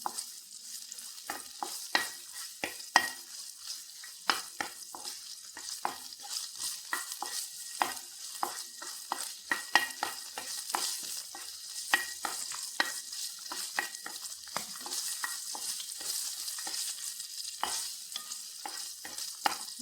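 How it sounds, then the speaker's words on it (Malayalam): Green chilies and dried red chilies fry in a pan for a chutney, giving a steady crackling sizzle broken by many sharp pops and scrapes of stirring throughout, close and alone with no talk. "ഒന്ന് വറുത്തെടുക്കാം"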